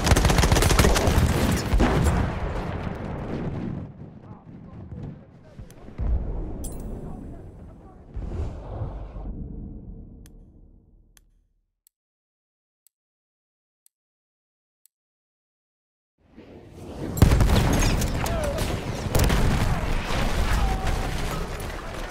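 Enemy machine gun fire in Battlefield 1 rattles loudly in sustained bursts, fades into near silence for several seconds, then erupts again in heavy, close automatic fire.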